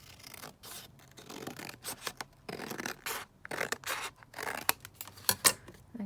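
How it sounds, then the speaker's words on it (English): Scissors cutting paper for a junk journal, with a string of close, crisp snips and rustling paper in irregular bursts, quiet and free of talk. "I'm just going to cut this one up here."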